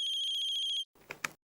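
A mobile phone ringtone plays a steady, bright electronic trill for just under a second, then cuts off, followed by a brief rustle and clunk as the phone is picked up, close and clear with no talking.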